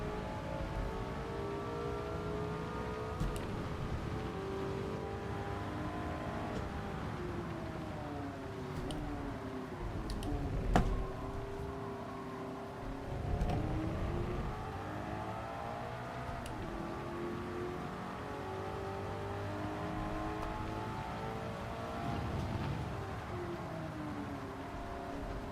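Race car engine in Gran Turismo 7, a paddle-shift car during race practice, droning steadily with rising and falling pitch sweeps through gear changes, fairly quiet and continuous without talk.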